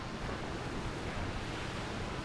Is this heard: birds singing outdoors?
no